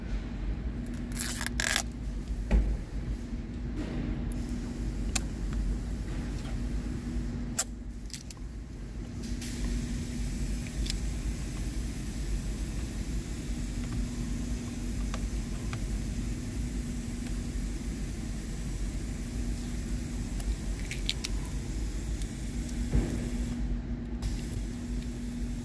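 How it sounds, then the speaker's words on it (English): Protective plastic film is slowly peeled off a 2024 Hyundai Tucson, a steady soft hissing scrape with a few sharper crackling tears, heard close and alone over a faint low background hum. "just peeling plastic"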